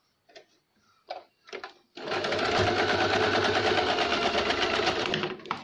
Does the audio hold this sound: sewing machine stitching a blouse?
yes